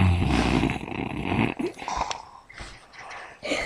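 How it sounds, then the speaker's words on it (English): A man snores loudly while asleep, giving a few rough, rattling breaths at close range with wheezy, snorting texture and brief quieter gaps between them. "He snores quite loud. He can snore louder though."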